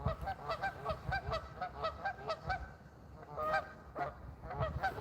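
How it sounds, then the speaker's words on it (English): Paired-up geese in early spring honk repeatedly in an uneven, overlapping chorus, moderately distant and fairly faint over low background rumble. "The geese are paired up."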